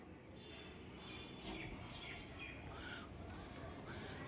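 Pigeons at a rooftop loft give faint, scattered chirping calls against a steady background rush.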